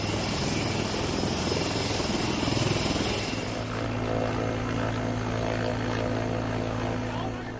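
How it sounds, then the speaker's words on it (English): A rescue helicopter flies close overhead in the hills near Kedarnath, its rotor and engine a loud continuous roar that eases slightly partway through, with no pauses. "The rescue helicopter had made 2 successful sorties to Kedarnath during the day."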